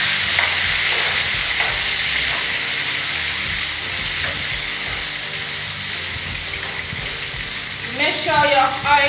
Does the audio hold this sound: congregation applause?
no